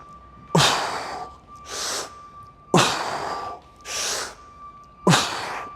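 Sharp, forceful breaths drawn and pushed out before a deadlift rep, five loud bursts in a steady rhythm, close up with no talking.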